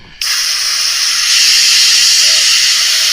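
A spray gun lays a top overspray coat of paint on a vintage 1970s bike during a restoration, a loud continuous hiss of atomized spray that starts abruptly and holds steady, close by, with no talk.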